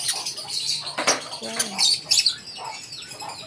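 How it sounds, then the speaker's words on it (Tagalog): Birds at a bird farm, including large birds, chirp and squawk with bursts of flapping wings. The calls are close and busy, and a voice exclaims briefly over them. "Napakaraming ibon dito"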